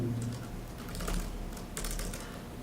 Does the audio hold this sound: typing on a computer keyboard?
yes